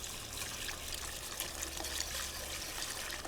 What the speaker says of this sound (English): Okay, milk looks like it's hot, just under simmering. Just going to pour it in.